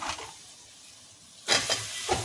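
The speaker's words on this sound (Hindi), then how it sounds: "अब इसमें हम डालेंगे आलू बैंगन" Potatoes and eggplant hit hot roasted masala in a pan: a faint hiss gives way to a sudden loud sizzle, followed by a few stirring surges, close and with no talking.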